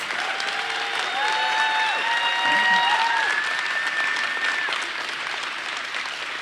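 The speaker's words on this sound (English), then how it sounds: "Let's give her a round of applause." Steady applause from an audience at a city's State of the City address in Denver, sustained and fairly loud through the whole stretch before fading slightly, with a few faint voices and whistles rising above the clapping.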